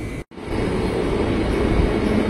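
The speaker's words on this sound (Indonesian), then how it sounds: "Dari jalur 1 komuter tujuan Bogor berangkat" A KRL commuter train bound for Bogor leaving platform 1, a close, loud, steady rumble of wheels and cars rolling past after a brief gap.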